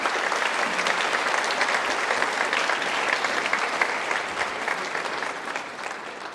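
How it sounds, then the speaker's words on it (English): Audience applause at the NUI Galway/BSTAI Junior Cert Awards 2015 ceremony, a dense and sustained round of clapping from a large crowd that tapers off slightly at the end. "a round of applause to show recognition for those"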